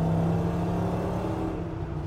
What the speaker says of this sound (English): this engine runs really well in here